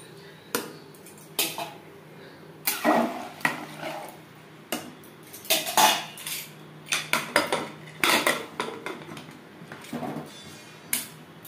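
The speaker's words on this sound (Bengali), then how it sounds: "গ্রেভির সাথে মাংস বেশ ভালো করে মিক্সড করে দেব।" Metal spoon scraping and clattering against a cooking pot as mutton curry with potatoes is stirred into a thin spiced gravy, a dozen or so sharp uneven knocks and scrapes close by, with no talking.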